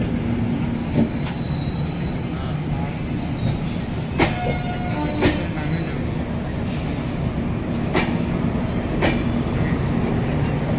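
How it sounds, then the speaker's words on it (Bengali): The Sealdah–Sabroom Kanchanjunga Express with LHB coaches hums and rumbles steadily at Sealdah station, with high metallic squeals and occasional clanks rising over the constant background noise. "পাশে দাঁড়িয়ে রয়েছে শিয়ালদা আগরতলা সাবরুম এক্সপ্রেস কাঞ্চনজঙ্ঘা এক্সপ্রেস একটু পরেই কিন্তু ছেড়ে দেবে"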